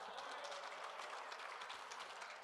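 A crowd at a women's fours lawn bowls final applauds and cheers, with dense, even clapping and raised voices sounding faint and distant throughout.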